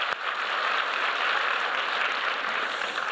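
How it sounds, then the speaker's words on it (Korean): A church congregation applauds after a hallelujah praise song during a worship service, producing a dense, even wash of clapping that sustains steadily throughout without breaks. "다시 한번 우리 할렐루야 찬양들을 박수하겠습니다."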